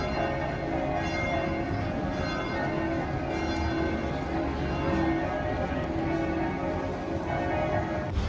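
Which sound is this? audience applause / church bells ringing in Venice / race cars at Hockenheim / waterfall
church bells ringing in Venice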